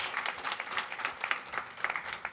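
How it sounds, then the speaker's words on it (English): Steady applause from an audience, many hands clapping in a dense, continuous patter at moderate volume. "So give them a round of applause."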